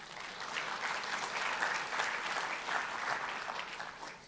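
A forum audience at the Arab Coordination Group event claps in a warm, continuous wash of applause that sounds soft and somewhat distant, holding evenly from start to finish.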